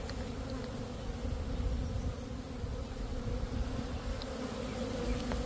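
Dense, steady buzzing of many honeybees at a hive fills the air at close range, a continuous low drone with no voices.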